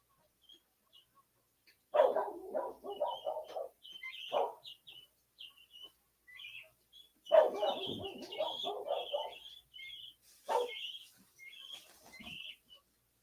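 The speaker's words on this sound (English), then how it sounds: "I hear coyotes out there and dogs barking at them." Outdoors at night, dogs bark in two separate bursts of repeated, fairly distant barks, while thin high calls from coyotes yip faintly in between and after.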